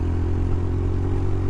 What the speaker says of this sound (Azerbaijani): Xoşum gəlir bu motosikletin səsindən.